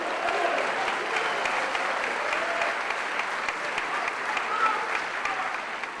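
A congregation at a church service applauds steadily for several seconds, dense clapping that holds at an even level throughout.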